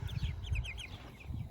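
Hens clucking in a chicken coop, several overlapping short clucks and chirpy calls, close and moderately loud over low rustling.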